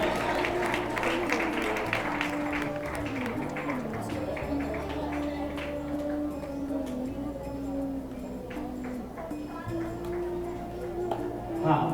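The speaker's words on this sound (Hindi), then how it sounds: "जोरदार ताली बजाएं मोनिका जी के लिए।" An audience at a convocation ceremony for a Prakrit and Jain studies course applauds, with a burst of clapping early on over sustained musical tones, then fading into a steady background murmur.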